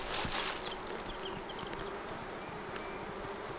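Honey bees hum in a dense, continuous drone at an open hive while icing sugar is dusted over them, the buzzing close and steady with individual bees flitting past.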